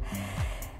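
Hard breathing after a bodyweight HIIT workout: a sharp gasp followed by heavy, snorting breaths, close and fairly quiet, with no talk.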